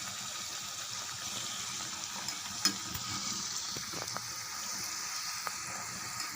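Vada batter fries in hot oil with a steady, quiet hiss and a few faint pops, heard close with no voices.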